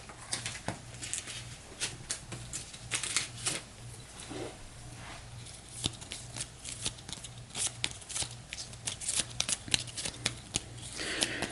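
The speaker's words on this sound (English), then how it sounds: "Again, a crappy 3-card shuffle." Game cards from an Eldritch Horror board game are riffled and shuffled by hand close to the microphone, a series of soft, quick papery flutters and taps over a faint low hum.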